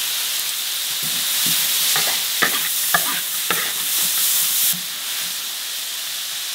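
Squash being stir-fried in a wok at home, a steady close sizzle and hiss with repeated scraping clacks of a spatula stirring, fading a little toward the end.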